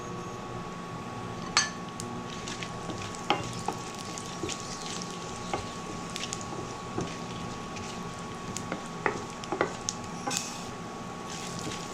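Cumin seeds and red chili frying in oil in a pan for a turai curry, with a steady low sizzle and occasional stirring clinks of a utensil against the pan, close and fairly quiet.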